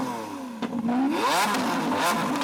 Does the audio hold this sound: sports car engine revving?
yes